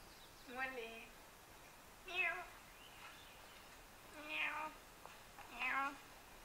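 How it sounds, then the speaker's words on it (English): A cat meows four times from a mobile phone's speaker, each call thin and small-sounding, spaced a second or two apart over a quiet, faintly hissing background. "I'm watching a video of my cat on my mobile phone"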